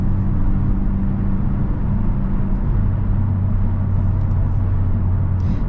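A 2023 Hyundai Elantra N cruising slowly in N mode, its engine giving a steady low rumble with constant road noise heard from inside the cabin, with no talking.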